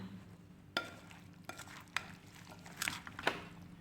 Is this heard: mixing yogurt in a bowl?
yes